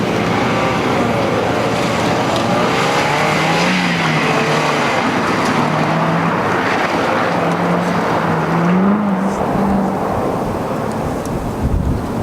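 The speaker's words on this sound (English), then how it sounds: "the really, really old guy that coordinates all this stuff comes out here and rips it in his Corolla" A Toyota Corolla races around an autocross track, its engine droning and rising in pitch through shifts, heard steadily under strong wind buffeting.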